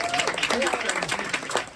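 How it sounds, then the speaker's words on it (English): Brief burst of audience applause in a conference room at a community safety meeting, scattered clapping mixed with voices talking over it. "Give a round of applause."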